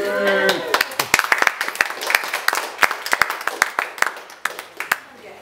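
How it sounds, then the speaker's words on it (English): A small audience claps enthusiastically as a woman walks up at a celebration, with crisp, rapid hand claps ringing out close by after a brief spoken intro. "Making the most of the applause there"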